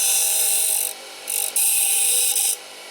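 A power sander grinds down a handmade guitar pick in bursts of bright, hissing rasp, three close passes broken by short pauses.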